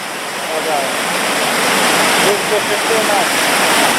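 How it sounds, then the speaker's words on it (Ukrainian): Steady, loud rushing of a waterfall about 6 metres high, at Chernyk village, Nadvirna district, Ukraine, fills the whole clip, a constant broadband roar with no pauses. "Ось він так водоспад, ну порядка 6 метрів."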